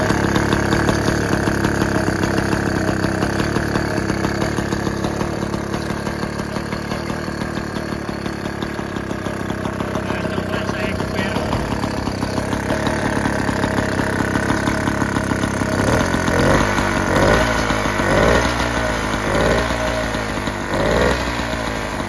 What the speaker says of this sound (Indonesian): Ini untuk suara mesinnya.